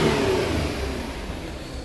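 A Range Rover Sport engine with its EGR valve stuck closed, revved on the throttle, a close mid-pitched engine roar that eases gradually from a high rev toward a lower, steady hum.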